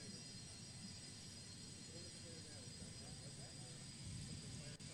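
A private jet landing on a damaged rear left wheel with its tires shredded to the rims, heard as a steady, loud broadband engine roar with continuous rumble throughout.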